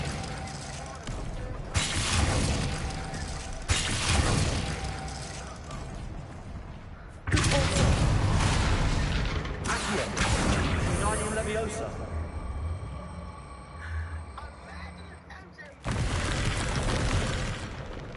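Several heavy booming blasts from the Bombarda spell in Hogwarts Legacy, spaced a few seconds apart with long rumbling tails and rubble-like clatter, while someone talks over the game sounds.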